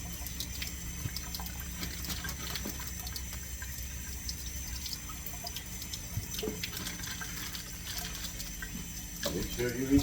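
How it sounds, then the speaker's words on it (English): Cold tap water running steadily into a sink while raw meat is rinsed, a constant close wash of flowing water with faint bumps and splashes near the end. "And rinse with cold water"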